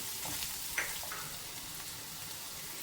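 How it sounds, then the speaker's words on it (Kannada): Turmeric and salt frying in a pan give a soft, continuous sizzle with faint stirring scrapes and one small clink near the start, heard close and fairly quiet, without speech. "ನಾನಿಲ್ಲಿ ಸ್ವಲ್ಪ ಹಳದಿನ ಸೇರಿಸ್ತಾ ಇದ್ದೀನಿ, ಸೇರಿಸಿ ಹುರಿತಾ ಇದ್ದೀನಿ."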